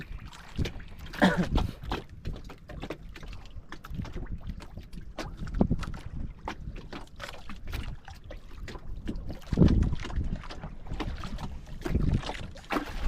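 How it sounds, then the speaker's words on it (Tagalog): Strong northeast monsoon wind, the amihan, buffets a small fishing boat at sea, a continuous rough roar of gusts against the microphone with intermittent splashing and knocking thuds. "Hangin pa rin si amihan mga idol, mahangin pa rin."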